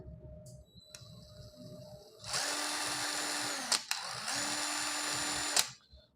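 A Mollar CIDR12150 cordless impact driver whirs in two steady bursts, each with a sharp start and stop, loud and close.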